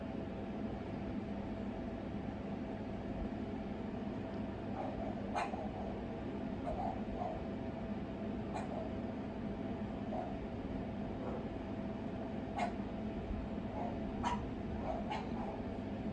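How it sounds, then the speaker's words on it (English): French bulldogs and an English bulldog barking somewhere below in the house, scattered sharp yips and barks spread through a steady low background, fairly distant and not very loud. "my dogs are having a heyday down there"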